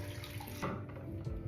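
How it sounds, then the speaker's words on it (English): Water runs and splashes as a face is washed at a sink, a steady close rush with a few brief splashy surges. "I'm gonna just splash my face with soap or wash my face with water"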